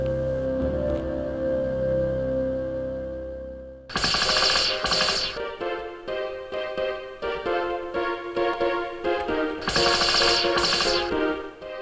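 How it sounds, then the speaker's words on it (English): Sci-fi sentry cannon in a low-budget puppet film firing in rapid, loud bursts of mechanical gunfire over a droning electronic score, starting abruptly after a few seconds of music alone and continuing in repeated volleys. "Arcurian sentry cannon, triggered by movement."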